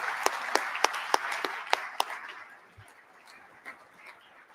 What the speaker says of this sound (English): let's give a big round of applause to all of our sponsors today